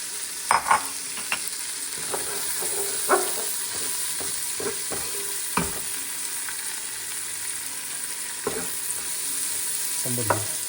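Onions and celery sizzle steadily in a pot, with intermittent scraping and clinks of a spoon stirring, no voices.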